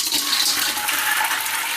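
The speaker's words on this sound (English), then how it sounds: "we're just going to drain off that water" Water from cooked beans pours through a colander in a short, steady rushing splash, close and fairly loud, with no talking over it.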